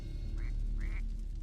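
A thirsty bird cries out twice in short, nasal, quack-like calls, close by and fairly clear over a steady low background hum.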